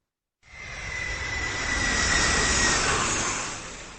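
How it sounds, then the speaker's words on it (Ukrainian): A steady, broad roar of an airplane passing overhead swells gradually louder, then begins to ease, with no voices. "або гучними політ літаків"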